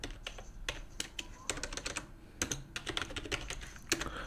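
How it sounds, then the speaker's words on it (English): Fingers type quickly on a computer keyboard, entering a search in a web browser on Windows 10, with close, crisp bursts of key clicks broken by short pauses. "go to google.com and hit enter and type Microsoft Teams"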